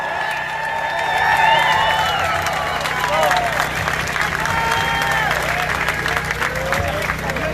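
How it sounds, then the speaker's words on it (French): Crowd at an outdoor protest rally in Montreal claps and cheers, a sustained wash of applause with whoops and scattered shouts rising after a second and rolling on, fairly loud and close throughout. "On l'applaudit très fort!"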